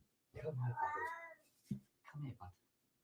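A pet cat meows indoors, two or three close, clear meows with short pauses between them, loud against an otherwise quiet room.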